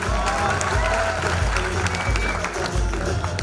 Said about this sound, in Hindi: सो एक बार जोरदार ताली